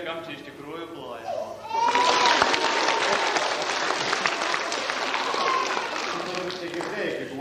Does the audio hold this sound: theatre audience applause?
yes